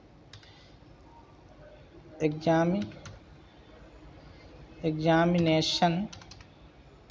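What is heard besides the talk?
typing on a computer keyboard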